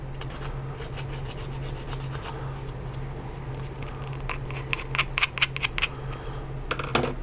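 Steady rasping of a round file worked back and forth on a plastic model kit, continuous and close, with a few sharper scrapes and clicks toward the end.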